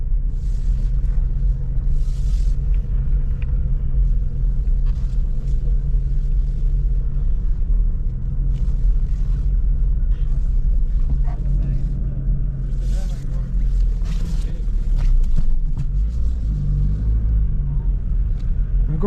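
A Vauxhall Corsa B GLS 1.4Si idles with a steady low rumble and hum that holds throughout, while people talk nearby.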